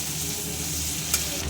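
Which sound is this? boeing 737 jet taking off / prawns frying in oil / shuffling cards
prawns frying in oil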